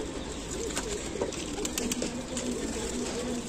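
A kasni pigeon held in the hand coos softly up close over a steady background hiss, with faint rustling and flutter.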